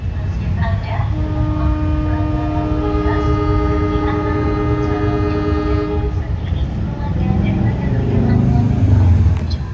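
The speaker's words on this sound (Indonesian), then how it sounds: "Klakson lokomotif 203 White and Blue" A CC 201 diesel locomotive horn blares in a long, steady multi-tone blast for several seconds over rumbling engine noise, then cuts off as the rumble continues.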